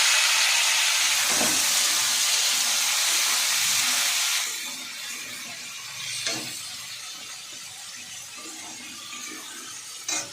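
Potatoes dropped into a hot pan for a paneer dish hiss with a loud, dense sizzle that dominates the first four seconds, then drops to a softer steady fry broken by a few spoon clinks.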